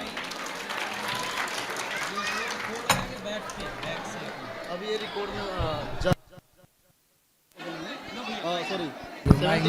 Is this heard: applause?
yes